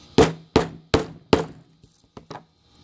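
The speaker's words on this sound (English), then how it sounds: "I'm just lining my 4 prongs up on the thing, taking the hammer" A hammer strikes a four-prong chisel four times in a steady rhythm, driving it through a leather strap, each blow a sharp close thunk, followed by a few softer taps and knocks.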